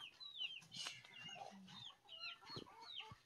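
Chickens clucking around a yard, with scattered bird chirps and soft calls overlapping in a busy outdoor mix.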